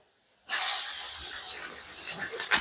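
Green chillies hit hot oil with browning ginger and garlic in a Kathiyawadi-style pan, bursting into a sudden loud sizzle that settles into a steady hiss with small crackles, close and without talk.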